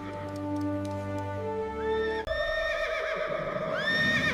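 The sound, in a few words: horses neighing and hooves clip-clopping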